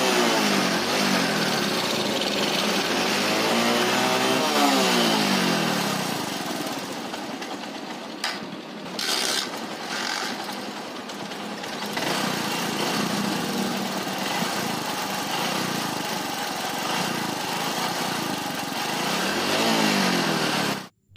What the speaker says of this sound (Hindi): बाइक के कार्बोरेटर में जितना भी फ्यूल अभी है उसको हम बर्न कर लेते हैं बाइक को चालू करके